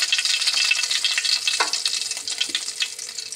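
Oil sizzling in a frying pan on a gas stove, a bright, close hiss with a few soft clinks and stirring scrapes; no one talks.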